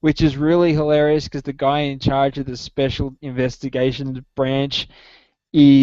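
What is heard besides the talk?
No everyday noise stands out behind the speech.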